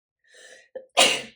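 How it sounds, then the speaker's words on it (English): A short inhaling buildup with a quick catch of breath, then one sharp, loud sneeze up close. "I have a sneeze coming."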